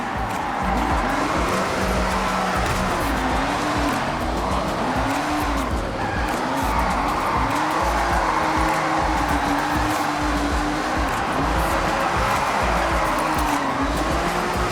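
Cars drifting in the Forza Horizon racing game, with continuous loud engine roar and wavering tire squeal sustained throughout, no talking.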